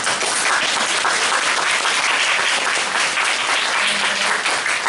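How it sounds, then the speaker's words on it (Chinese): A lecture audience at a literary festival in Taipei breaks into sustained applause, a dense and loud wash of many hands clapping that continues evenly throughout, with no talking. "所以呢，我们可以再次的以热烈的掌声再谢谢沃普吗？"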